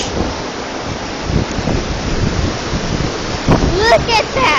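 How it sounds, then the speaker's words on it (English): A rushing river ditch after rain in Cold Springs, with a continuous close, broadband roar of flowing water and some wind buffeting throughout. "I am on the island in the middle of a rushing river"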